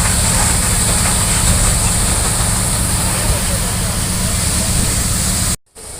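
A large fire at an asphalt and chemical drum warehouse in Kirwali village roars loudly and steadily with a low rumble, then breaks off abruptly near the end.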